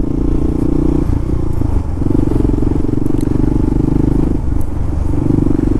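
A KLR dual-sport motorcycle rides through New York City traffic near the Williamsburg Bridge entrance, its loud, steady engine drone filling the clip with road rumble and some wind clatter throughout.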